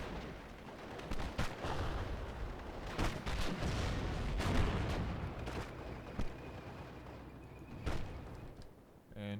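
In Steel Division Normandy, 6-pounder gun and artillery fire booms repeatedly at irregular intervals, some shots sharp and near, others dull and distant, beneath someone talking.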